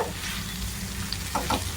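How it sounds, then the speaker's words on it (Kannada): Hot oil crackles and sizzles as tempering is poured into a pan of cooked vegetables for vermicelli upma, with a couple of brief louder spits toward the end. "ಈ ಒಗ್ಗರಣೆ ಒಳಗೆ ಹಾಕ್ತಾ ಇದೀನಿ ನೋಡಿ"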